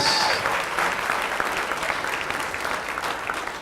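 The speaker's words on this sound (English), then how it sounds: "let's give them a round of applause" A comedy show audience claps steadily for a few seconds, a full, even round of applause that slowly tapers off.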